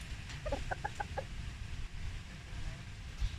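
Several short clucks from a chicken come in a quick run near the start, moderately close over a low rumbling background.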